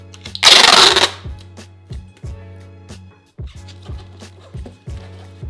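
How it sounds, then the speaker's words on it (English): Packing tape is pulled and pressed to seal the edges of a shoe shipping box: one loud tearing screech, then a string of soft, fairly regular thumps and pats as the tape is smoothed down. "with our H taping method, we're just going to try to seal up these edges right here along the sides."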